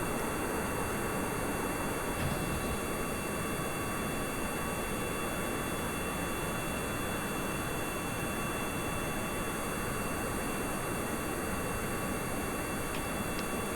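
Aircraft engine roaring at a steady, loud level throughout a takeoff in the rocket-building game RP-1, a constant broadband rush with a faint high whine and no talking.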